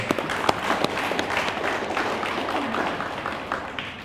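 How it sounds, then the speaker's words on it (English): Audience applause at a children's graduation ceremony in Fiji, a crowd clapping steadily with a few sharp individual claps early on, fading gradually toward the end. "they deserve a huge round of applause"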